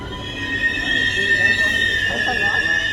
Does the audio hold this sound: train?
yes